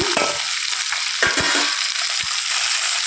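Okra, tomato and garlic sizzle and fry in a hot pan, with occasional scraping stirs and soft clinks over the steady crackle.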